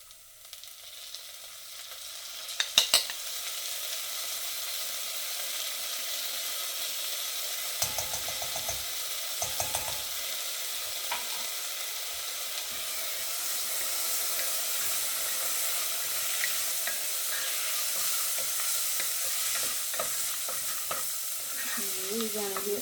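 Four cloves of minced garlic toast in a pan with a bright, steady, close sizzle that lasts throughout, joined early on by a few clinks and scrapes of stirring.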